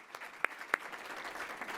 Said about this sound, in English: Can I hear a clap?